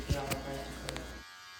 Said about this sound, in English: I'll start with the closed clipper from the bottom and I'll fade my way up